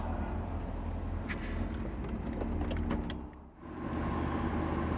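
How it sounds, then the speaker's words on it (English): A 1967 Chevrolet Camaro convertible with a manual top hums along on a test drive, steady engine and road rumble filling the cabin, with a few light clicks and a brief dip midway. "Let's take it on a test drive, see how it runs."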